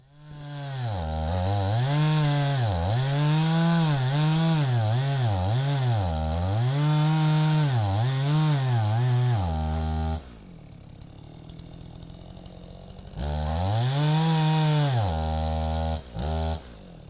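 A chainsaw fitted with a skip chain cuts into a 162-year-old Douglas fir, its engine loud and close, howling and bogging as the load shifts, then dropping to a rough idle for a few seconds before revving hard again.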